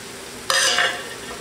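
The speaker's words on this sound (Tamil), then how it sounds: "புதினாவும் மல்லித்தலையும் போட்டு வதக்கினதுக்கப்புறம்" Onions with a handful of mint and coriander leaves sautéing in a pan, a brief burst of stirring and sizzling that swells suddenly, then settles into a steady close hiss with no one speaking.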